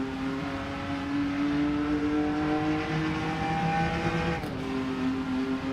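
A race car engine in the racing simulator Rennsport drones at steady high revs with layered harmonic tones, briefly dropping pitch near the end as if shifting, continuous and close.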